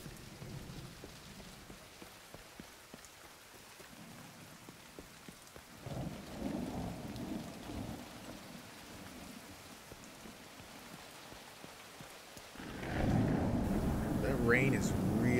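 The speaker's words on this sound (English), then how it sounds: "Rain is really coming down." Heavy rain and rolling thunder in the video game The Division 2, a steady loud downpour with a deep thunder swell midway and a stronger surge near the end.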